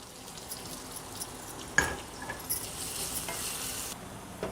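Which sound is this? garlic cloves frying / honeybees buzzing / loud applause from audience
garlic cloves frying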